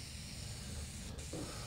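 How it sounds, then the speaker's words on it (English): Aerosol rattle can of Deft finish sprayed as a final coat onto a handmade walnut wooden checkerboard, giving a steady continuous hiss that runs quietly and evenly throughout, alone without talk. "We're just going to spray it."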